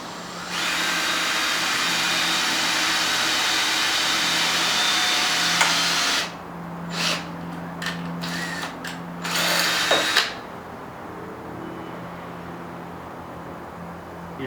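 A power drill bores holes with a small bit into a homemade go-kart bumper bracket, a loud steady whir for about six seconds, then several short bursts and pauses as the bit is pulsed through the metal.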